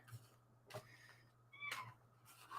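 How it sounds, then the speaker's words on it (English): A pet cat meows several times at a moderate distance. The short, rising cries are spaced out over a faint steady hum, and nobody speaks. "Domino's in the background meowing away because he loves when Daddy's doing a live feed"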